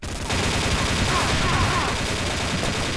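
Dense, continuous gunfire from the video game XSHOT during a clan match, loud and sustained bursts with no gaps for the full span.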